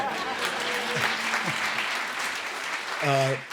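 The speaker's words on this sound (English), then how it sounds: "this generous audience would want to applaud for her" Attendees at an annual meeting and legacy celebration applaud warmly, a steady wash of clapping that carries through, with a voice briefly rising over it near the end.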